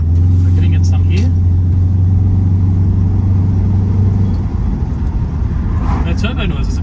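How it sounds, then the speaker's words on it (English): A 2013 Peugeot 508 Touring wagon under acceleration, its steady low engine drone and turbo whine filling the cabin, with a brief whoosh near the end. "The turbo noises are pretty cool too."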